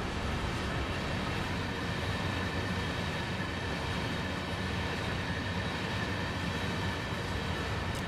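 A mixed freight manifest train with GP38 locomotives at both ends passes on Horseshoe Curve in Train Sim World 2, making a steady, continuous low rumble and rolling clatter with no pauses.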